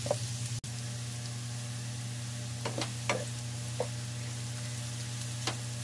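Steady close sizzle of sautéing in a pan while cooking fish escabeche, a continuous hiss with a few soft clinks and stirring scrapes.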